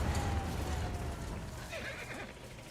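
A horse whinnies over a dense, noisy background in The Last of Us Part II, a sharp neigh rising and falling in pitch before fading.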